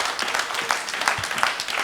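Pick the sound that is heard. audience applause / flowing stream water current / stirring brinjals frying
audience applause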